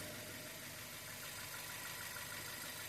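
A warmed-up Honda engine with a P0341/P0366 camshaft timing fault idles quietly and evenly, a faint, steady mechanical hum with no voices over it.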